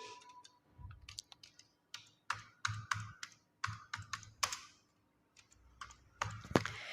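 Quiet, close typing on a computer keyboard while entering text in MS Word, with irregular bursts of soft key clicks separated by short pauses.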